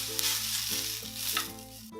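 Onions frying in olive oil in a pan give a steady, close sizzle with a bright crackling hiss throughout, and a few stirring shifts break up the texture.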